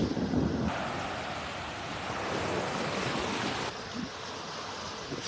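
Surf breaks steadily on a beach in North Naples, Florida, with a constant wash of waves and gusting wind buffeting the microphone, loud and close throughout with no voices.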